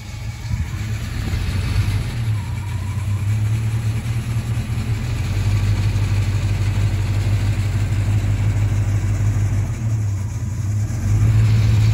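A car engine runs steadily at a low rumble while backing up a trailer, close and continuous, rising slightly in load partway through and again near the end.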